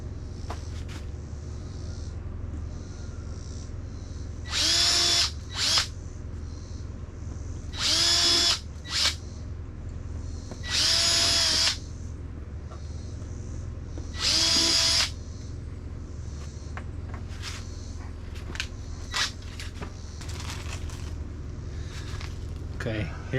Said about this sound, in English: Let me get a drill and we'll drill it out